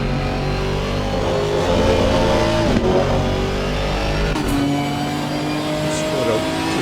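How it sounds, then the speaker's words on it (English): An Aston Martin GT4 race car engine roars at high revs at Donington, loud and close, with pitch shifts as it accelerates and changes gear while a commentator talks over it. "That Aston Martin's engine here sounds a lot like the Mercedes."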